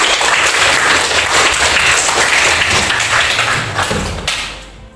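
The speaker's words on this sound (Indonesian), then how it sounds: "Beri tepuk tangan anak-anak." A classroom of schoolchildren claps together in a dense, loud burst of applause that holds steady, then thins and fades out near the end.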